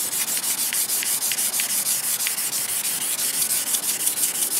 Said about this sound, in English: we're gonna sand this down now